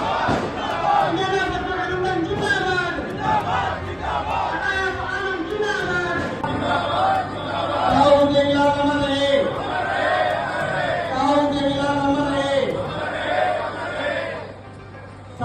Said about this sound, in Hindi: सपना बड़शामी की इस रैली में कितनी भीड़ रही, क्या नज़ारा रहा